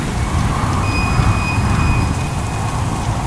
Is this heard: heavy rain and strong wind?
yes